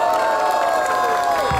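A rap battle crowd cheers and shouts for the rapper Lil V, a loud, continuous roar of voices filling the whole short moment.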